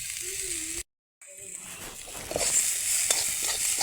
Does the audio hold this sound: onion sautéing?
yes